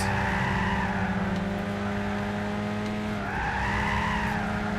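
Tyres squeal and skid continuously as a car slides hard around a race track in Gran Turismo 6, the sustained screech layered over a steady engine drone, loud and unbroken with no talking.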